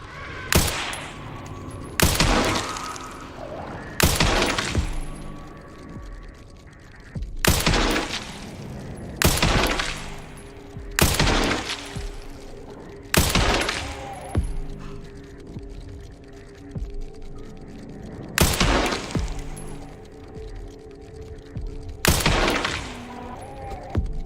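Repeated gunshots in the video game Resident Evil Requiem, about ten sharp loud bursts spaced a second or two apart, some in quick pairs, over a low steady game ambience.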